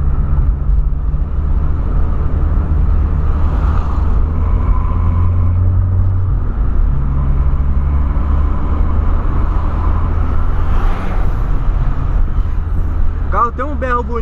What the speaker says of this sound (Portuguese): Eu curto o barulho desse carro, hein, velho.